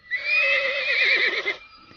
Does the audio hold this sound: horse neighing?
yes